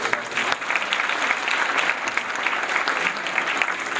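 Sustained applause from a concert audience at a ghazal performance of Ahmed Faraz poetry in Houston fills the hall, steady and fairly loud throughout with dense overlapping claps and no voices.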